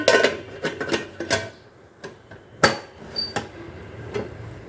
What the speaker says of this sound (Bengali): এবারে আমি কুকারের ঢাকনাটা বন্ধ করে দিচ্ছি